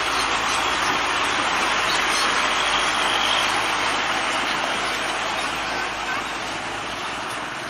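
An old Fuso dump truck rolls past in a convoy of three vehicles carrying stone on a road, its engine a steady, fairly close broadband roar that eases slightly toward the end.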